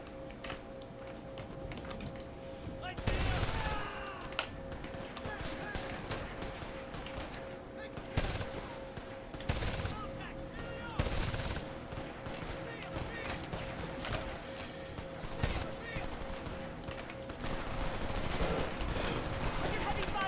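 Heavy gunfire in the Homefront video game, with repeated loud bursts and volleys of shots spread across the scene. A voice talks in between and over the firing.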